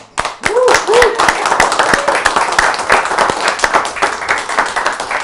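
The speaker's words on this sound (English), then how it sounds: "Let's give a round of applause for Sandy." Studio audience on a cooking show claps for an incoming guest, a dense burst of applause with sharp individual claps, a brief cheer-like voice early on, steady throughout.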